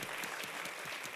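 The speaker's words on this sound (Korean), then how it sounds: "박수 한번 주세요." Lecture audience at a Korean humanities talk applauding, a brief, faint wash of steady clapping that sounds distant and even, with no talk over it.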